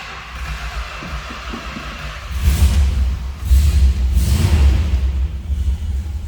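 A 1964 Chrysler 300 convertible's 383 V8 with push-button transmission sits quietly, then catches and settles into a loud, close, deep rumble with surging revs, no talk over it.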